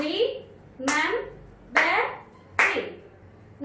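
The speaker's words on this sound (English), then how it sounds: "how many times we are going to clap now?" Children in an English class clap out the syllables of a word, four crisp group claps spaced evenly about one second apart, each followed by a brief ringing tail in the room.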